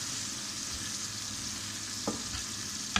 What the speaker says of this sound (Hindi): अब ये टमाटर और कलेजी को हम अच्छी तरह मिक्स कर लेंगे